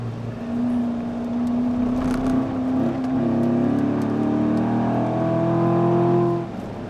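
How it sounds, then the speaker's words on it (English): A 2014 Corvette Stingray's exhaust drones loudly and steadily from inside the car on the Laguna Seca track, the engine note holding, then climbing as it accelerates, with no talk. "Corvette engineers did a lot of work on fine-tuning the harmonics of the exhaust system, so it sounds as good from the inside as it does from the outside."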